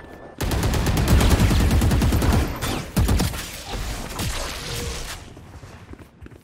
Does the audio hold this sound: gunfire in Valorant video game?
yes